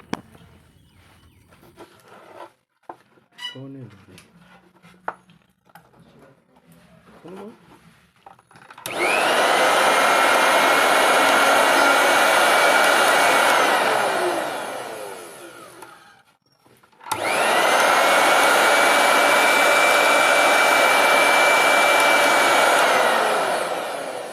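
A few faint clicks and handling noises, then a mixer grinder's newly replaced motor whirs loudly and steadily at high speed, stops briefly, and starts again at full power.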